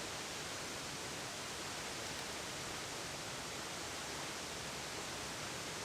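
Nandroya Falls pours in a steady, dense rush of falling water, a constant broadband hiss held at an even, fairly soft level with no other sounds.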